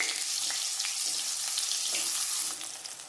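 Steady, crackling sizzle of eggplant frying in hot oil in a pan, continuous and fairly loud, easing slightly toward the end.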